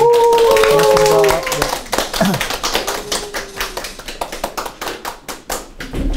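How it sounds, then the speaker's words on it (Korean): A small audience at a business lecture for a reading club claps to welcome a speaker, sparse rhythmic handclaps that follow a short stretch of music and voices, fairly close and moderately loud. "다 같이 박수로 환영해 주십시오."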